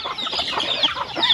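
Chickens, including young chicks, clucking and chirping while eating feed, mango scraps and grass on a farm, a close, busy cluster of overlapping calls with no talking.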